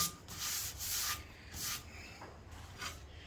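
Metal parts being ground smooth in a workshop during English wheel fabrication, a series of rough abrasive passes in bursts of about half a second, close and fairly loud, with no talking.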